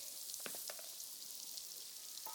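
Spinach sautéing in a pan for a Kenyan meal, a steady hiss of sizzling with a few soft stirring scrapes near the start.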